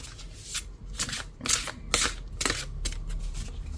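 A deck of oracle cards is shuffled by hand in a series of quick riffling bursts, close and fairly loud, with no talking.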